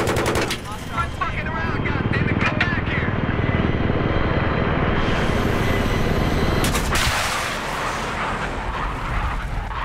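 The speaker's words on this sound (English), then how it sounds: "There's our attack chopper right over Echo." Battlefield 3 combat plays loudly and continuously, with an attack helicopter in the mix alongside rapid machine-gun fire, explosions and vehicle noise. Players talk over the din.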